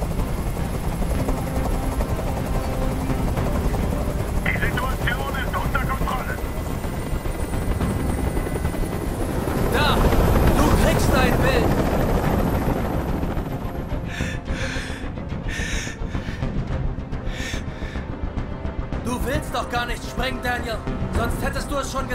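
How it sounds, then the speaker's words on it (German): A helicopter's steady rotor drone fills the whole clip, loud and close, with voices and game sounds layered over it, from Detroit: Become Human. "halte diesen Krach nicht mehr aus! Dieser Helikopter soll verschwinden!"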